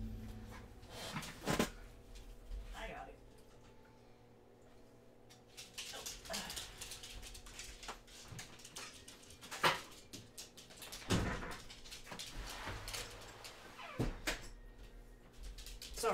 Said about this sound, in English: Hold on, I gotta get my dog.